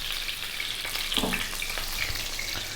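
Chicken pieces browning in a hot pan, giving a close, continuous frying sizzle with crackling bursts and a brief stirring scrape in the middle.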